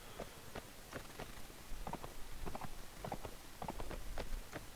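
A horse's hooves clip-clop at a steady walking pace in the video game Mount and Blade Warband, with rhythmic paired thuds over a constant background hiss.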